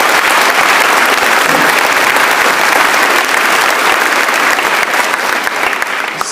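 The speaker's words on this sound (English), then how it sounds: "So I'd like to give a big round of applause to you." A large school assembly audience gives loud, sustained applause in honour of the local VFW at a veterans event, a dense unbroken wash of clapping that holds steady throughout.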